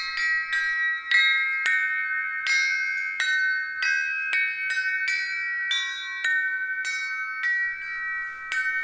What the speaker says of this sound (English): bifurcating one or both ends of the chimes to create fork chimes